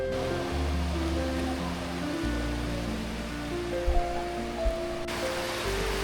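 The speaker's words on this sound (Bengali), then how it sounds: "দীঘার ঢেউয়ের এই শব্দটাই আসলে এখানে আসার আসল কারণ।" Sea waves breaking on Digha beach make a steady, continuous wash of surf with a few brief thumps partway through, with no voices.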